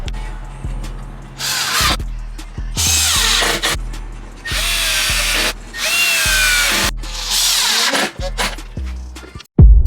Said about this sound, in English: We will be using 1¼ inch drywall screws to screw the subs down.